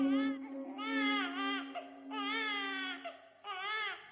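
A crying water-baby in a Slovak audio fairy tale, tossing in a reed cradle, wails in long sobbing bursts with short breaks between them, close and clear.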